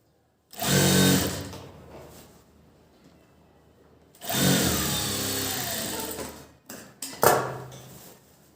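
A sewing machine stitches a sleeve onto a garment in two loud bursts of fast whirring separated by a quiet pause, ending with a few short stop-start runs.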